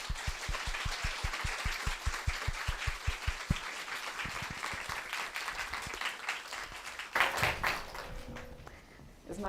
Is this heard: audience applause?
yes